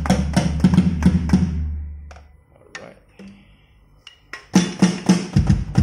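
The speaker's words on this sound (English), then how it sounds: "So this is the sound of the drum." An electronic drum kit played through drum software produces crisp hits, quick bursts of kick and snare strikes, a sparse quiet middle with scattered taps, then another loud flurry of drum hits.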